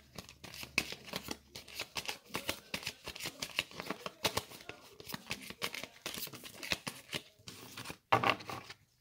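Oracle cards shuffled and cut by hand during a French romantic-guidance card reading: a dense run of quick papery riffles and flicks, with a few short pauses, close and fairly soft, and a sharper burst near the end.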